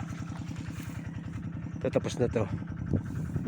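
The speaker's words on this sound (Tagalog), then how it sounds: "Patayin ko na itong makina." A small irrigation pump engine runs nearby in a sweet potato field, a steady rapid chugging throughout, while someone talks briefly over it.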